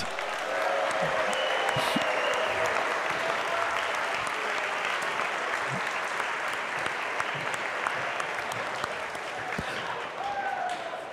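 Sustained crowd applause with scattered cheers fills an indoor robotics competition venue, dense and steady for the whole stretch with no talk.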